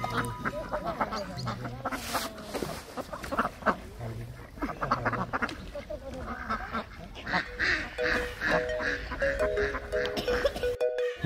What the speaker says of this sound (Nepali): कति हो कति हाँस त यो त हिँड्नु पनि नसक्दो रहेछ